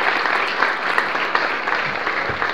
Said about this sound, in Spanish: Y un aplauso para nuestro invitado.